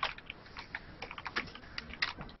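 Quick, uneven clicks of typing on a computer keyboard patter on continuously, faint and close, with no voices over them.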